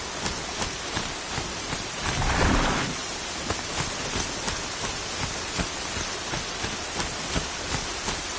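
Steady rain hisses across a wide outdoor scene in the Horizon Zero Dawn game, with a low rolling rumble of thunder swelling briefly in the middle and no voices.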